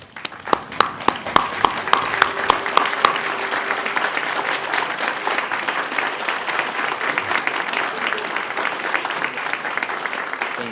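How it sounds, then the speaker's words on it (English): Graduates at a hospital residency graduation ceremony applaud, starting with a few sharp individual claps that quickly swell into full, steady applause from the whole room, sustained for about ten seconds. "I would like all of the graduates to stand up for a second and applaud and thank their parents and loved ones"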